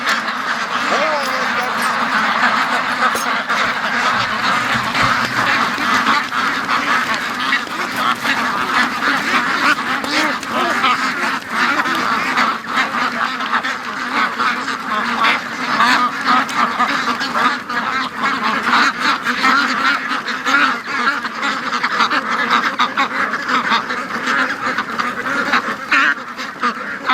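A flock of free-range domestic ducks quacks loudly and continuously nearby, with overlapping calls forming a dense, steady chorus throughout.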